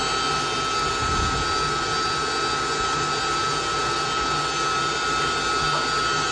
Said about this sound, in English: Now we're just going to let it mix until it cools down